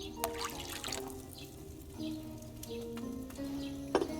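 Water trickling and dripping into a pot in an alchemy crafting game, with soft splashes and a few sharp clinks over a quiet game soundtrack.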